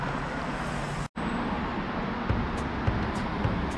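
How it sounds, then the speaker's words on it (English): Steady street traffic in Hollywood near Hollywood High School: a constant broadband roar of passing vehicles, briefly cutting out once, with a few faint knocks. "Sorry for the traffic noise."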